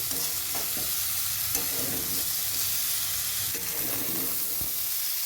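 Spiced cauliflower and potatoes stir-fried in oil, giving continuous close sizzling with repeated scraping and stirring knocks of a utensil against the pan.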